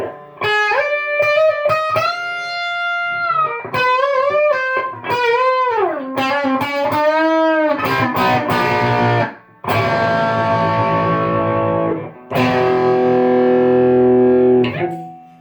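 Electric guitar through a Klon-style Ceriatone overdrive pedal and Marshall amp rings out close and loud, single bends and sustained notes giving way to crunchy distorted chords with brief gaps between phrases.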